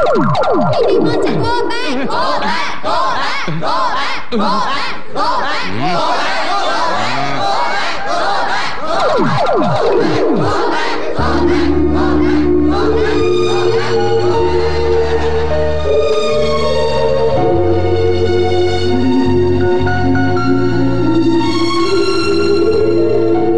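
A classroom of students shouts and yells together in a loud, dense, continuous roar, with overlapping voices and cries held steady throughout.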